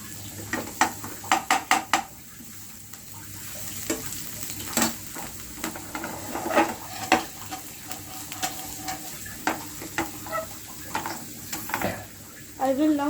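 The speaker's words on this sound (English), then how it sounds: "Now I will fry. Now I will put some carrots into it, which have been chopped already." Chopped carrots sizzle in a hot pan of fried rice, with a steady frying hiss broken by repeated sharp clinks and scrapes of a utensil stirring against the pan.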